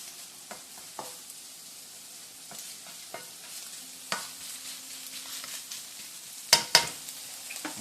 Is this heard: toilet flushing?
no